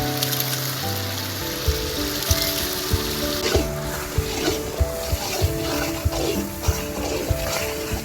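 Squid pepper fry sizzles steadily in a pan, a continuous bright crackle with regular soft knocks of a spoon stirring, moderately close and with no talk.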